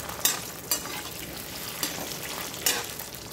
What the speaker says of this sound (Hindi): थोड़ा थोड़ा तक डालते हुए हम फ्राई करेंगे